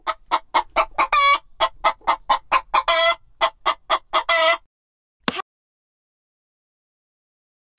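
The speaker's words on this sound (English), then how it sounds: "Hen." A hen from a children's learning app clucks in a quick, steady series of loud, close calls for about four and a half seconds, followed by silence broken only by a brief click.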